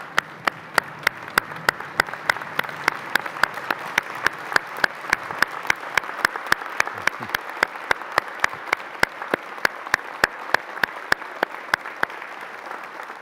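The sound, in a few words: applause for the chancellor at convocation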